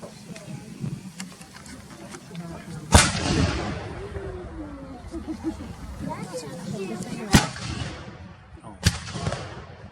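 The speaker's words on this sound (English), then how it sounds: "They shot another cannon." Three sharp, booming cannon blasts ring out at uneven intervals over a rumbling background with muffled voices, at a Civil War living history reenactment in Rochester, Minnesota.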